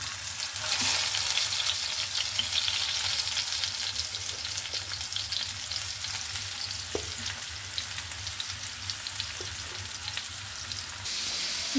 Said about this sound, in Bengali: দেখুন মাছের তেল দিয়ে মাছ ভাজি করছি।